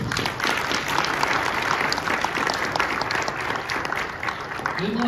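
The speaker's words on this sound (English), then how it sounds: "how about one more round of applause for all our candidates?" An audience at a September 2023 candidate forum claps steadily for the candidates, a dense, continuous round of applause lasting several seconds.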